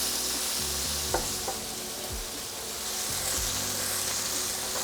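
Pork tenderloin pieces sizzle and fry in a hot pan, a constant bright hiss with occasional scraping knocks and shuffles as the meat is pushed and turned, close and with no talking.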